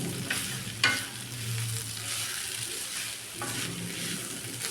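A cooked kantola vegetable dish is stirred in a pan after five or six minutes of cooking. A low, steady sizzle runs beneath a couple of sharp scrape-and-clatter moments from the spoon, quiet and close, with no talking.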